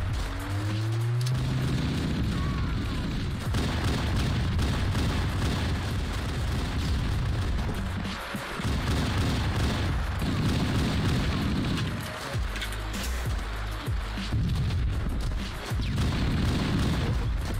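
Rocket explosions in Halo CE on PC, booming blasts and rumbling impacts packed into a loud, busy game mix that runs almost without pause, with a voice talking over it.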